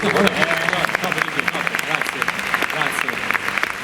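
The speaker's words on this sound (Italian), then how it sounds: "Un altro applauso, dai." An audience at a live comedy show with Max Angioni in Porto Tolle claps in dense, sustained applause that fills the room.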